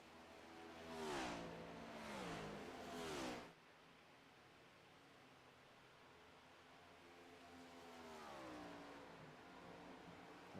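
A NASCAR stock car on pit road at Charlotte Motor Speedway drones past at a distance, its engine note rising and falling in a few sweeping bursts. A calmer spell follows, then another car approaches and builds again.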